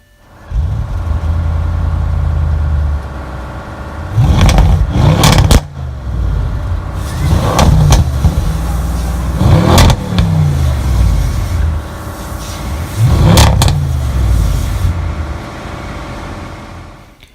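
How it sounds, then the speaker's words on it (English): A 2017 Audi RS7 engine starts with a loud burst and settles into a steady idle, then revs up sharply four times in spaced bursts, each rising and falling back to idle, close and alone. "To start the engine, push your foot down the brake and press the start button located in the middle console."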